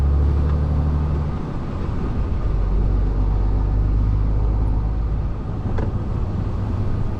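A lorry on a 24-pallet delivery run, heard from inside the cab as a steady loud low engine rumble and road noise throughout with no talk.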